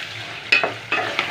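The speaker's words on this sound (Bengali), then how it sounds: "সব মিক্স করে ভুনে নিচ্ছি।" Spices of turmeric, chilli and cumin being stirred and fried for minced meat kima, a steady sizzle broken by two or three scraping stirs of the spoon in the pan, close and fairly loud, no talking.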